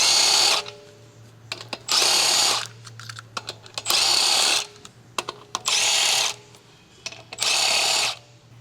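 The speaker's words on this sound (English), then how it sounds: "Using the large 23mm short socket, large short extension bar, and large electric impact wrench, remove the front wheel lug nuts." Large electric impact wrench with a 23mm short socket and extension bar spinning off the front wheel lug nuts of a 2013 Dodge Ram 1500, five loud buzzing bursts of about a second each, separated by clicks and clanks of socket handling.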